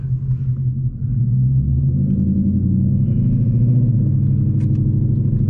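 A 10-speed Mustang GT cruises on a freeway, heard from inside the cabin as a loud, steady low engine and road rumble that builds slightly as it gets going.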